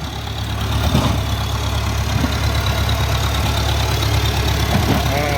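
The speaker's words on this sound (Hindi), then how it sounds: "इन्होंने अब ये ट्रैक्टर मंगवा लिए हैं, हैवी ट्रैक्टर हैं" Heavy tractor idling while clearing snow, a steady low engine drone, close and loud throughout, with faint thumps over it.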